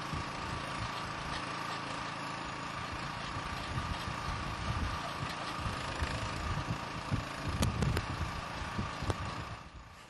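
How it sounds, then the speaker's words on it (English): An M660 Dig-R-Mobile towable hole digger runs its auger continuously, a steady loud engine drone with rising and falling load and no speech, easing off at the very end. "Stop the auger rotation when removing to produce the cleanest, most usable hole."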